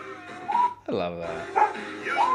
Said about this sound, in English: that bark is really messing with me